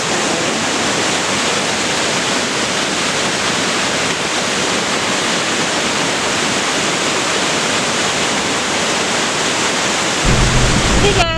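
A large waterfall roars as a dense, steady, loud wash of falling water that fills the whole clip without letup, close and overpowering.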